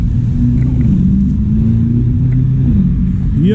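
A Lamborghini sports car engine rumbles steadily on a busy London street near Marble Arch and Oxford Street, close and loud throughout, with a pitch rise near the end as it revs.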